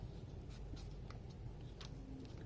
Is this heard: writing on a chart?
yes